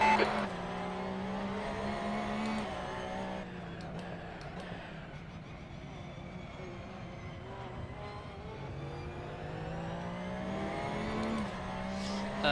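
A Porsche race car engine revs continuously in a racing video game, its pitch climbing and falling through gear changes over a steady loud drone, with brief tire squeal and no talking.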